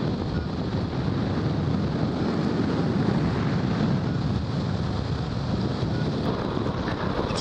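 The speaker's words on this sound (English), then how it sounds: "The wind's picked up." Steady, loud wind roar buffets the microphone throughout a hang glider flight at Stanwell, a continuous broadband rush with no voices.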